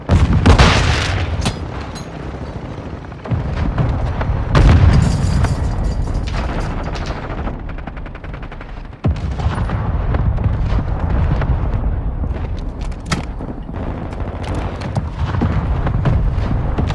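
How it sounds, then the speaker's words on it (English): Mortar strike explosions in the Call of Duty: Modern Warfare video game: a dense run of heavy, rumbling booms and blasts, one after another for the whole stretch, loud and close with almost no quiet between impacts. "Hostile mortar strike in the area."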